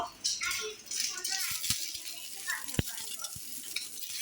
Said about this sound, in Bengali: আমার জন্য ডিমটা ভেজে নিচ্ছে